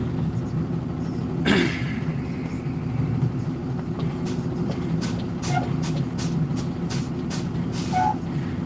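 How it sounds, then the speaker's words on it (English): A delivery driver's truck air brakes hiss in a sharp burst near the start, followed by a run of short, repeated hissing releases over a steady, loud diesel engine and road rumble. "Playing around with my air brakes, make sure they're working pretty well."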